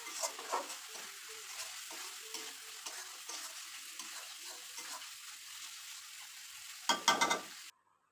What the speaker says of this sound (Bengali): এই মশলাগুলো আমি কষিয়ে নেব যতক্ষণ পর্যন্ত উপরে তেল না ভেসে ওঠে